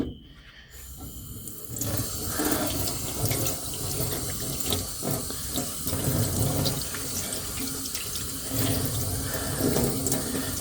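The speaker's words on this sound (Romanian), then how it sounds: "Iar îi dăm cu apă pe el, da? Așa să face, să dă cu apă, să spală bine." Water runs steadily from a tap over a sanded part of a Gy6 150cc four-stroke scooter engine being rinsed clean, a continuous close splashing rush lasting throughout after a brief quieter start.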